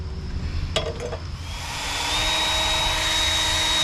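A steady electric drill whine with a broad mechanical hiss, boring a hole slowly, rising slightly in level and holding constant, close to the microphone.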